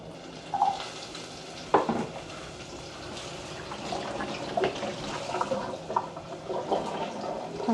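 Chopped onion dropped into hot oil in a frying pan, a soft continuous sizzle with scattered crackles and light stirring scrapes, fairly quiet with no talk.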